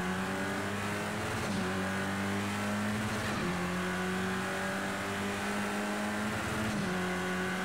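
Touring race car engine in the Project CARS 2 racing game, revving loudly and steadily with repeated pitch drops at each gear shift, the engine note rising and falling about every two seconds with no talk.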